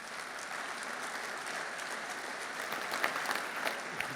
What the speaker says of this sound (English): a big applause for yourself.